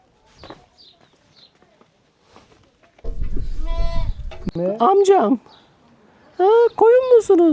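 Goats and sheep along a road toward the desert through Morocco's Atlas Mountains give out bleats: two loud wavering cries stand out after a stretch of rustling, scattered quieter sounds.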